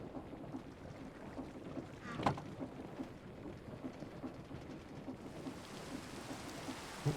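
Rain and thunder in the Minecraft video game, a steady wash of rainfall at moderate level with a brief rumbling thunder swell partway through, no talking.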